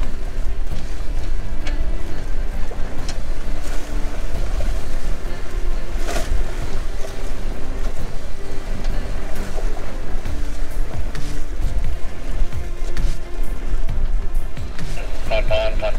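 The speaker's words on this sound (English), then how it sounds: "Getting some crazy wind here." Strong wind buffets a Windrider 17 sailboat underway on the water, a constant roaring rush mixed with splashing and hull noise, loud and close throughout with no voices.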